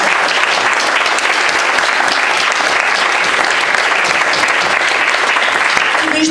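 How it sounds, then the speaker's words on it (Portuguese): A festival audience in Portugal gives the school director steady, loud, sustained applause, with the clapping dense and even from start to finish. "E então a Manuela Damaso, que está entre nós, eu também peço uma salva de palmas"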